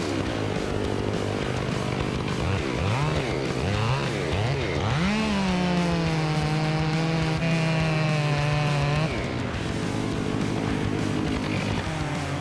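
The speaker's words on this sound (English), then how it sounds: "The roar of the chainsaw swept through the forest like an alien sound." A big chainsaw roars loud and close as it cuts into timber, its pitch rising and falling as it revs, then holding steady under load through the cut before easing off.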